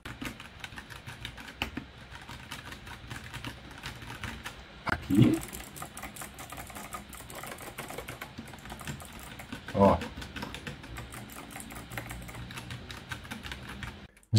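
Typing on an 8BitDo mechanical keyboard gives a steady, close run of small clicks for the whole stretch, with a few louder bumps and knocks mixed in.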